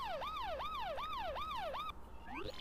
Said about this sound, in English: Hey, that's a good siren sound.